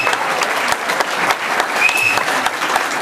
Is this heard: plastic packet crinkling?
no